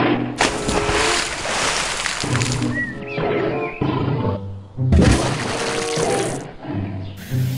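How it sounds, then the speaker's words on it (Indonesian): A tiger gives a couple of loud, close roars, heavy bursts separated by brief gaps, with mechanical clicking and rattling around them. "Wow, ada harimau."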